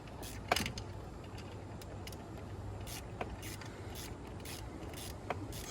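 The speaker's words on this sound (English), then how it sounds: "Tighten it up till it clamps on." Clamp being tightened onto a crankcase line of a Ford F150 5.0, heard as faint close-up ratcheting clicks and creaks at irregular intervals over a quiet background.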